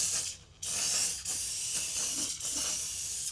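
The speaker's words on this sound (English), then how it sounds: "it sprays kind of crappy" A paint sprayer hisses continuously while spraying floorboard paint, a steady close airy rush broken by a few brief dips and pauses.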